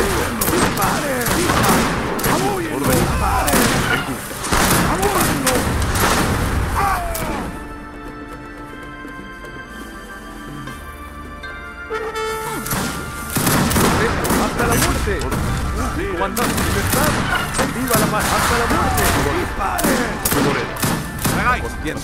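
Dense musket volleys crackle from massed troops in the real-time strategy game Age of Empires 3 (Wars of Liberty mod), loud and continuous, easing briefly mid-clip before the rattling fire resumes, with unit voice barks in Spanish mixed in.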